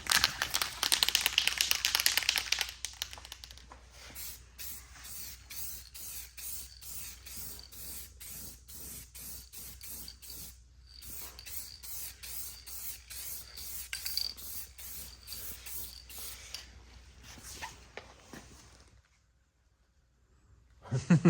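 A spray paint can hisses at close range onto a V8-swapped Ford Ranger, first as a long continuous burst and then as shorter sprays mixed with faint handling noises.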